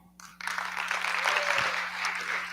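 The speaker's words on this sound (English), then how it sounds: "We're going to clap number 10. Let me hear a 10." A comedy-night audience claps together on cue, a dense broadband burst starting sharply after a brief quiet and holding steady and loud to the end.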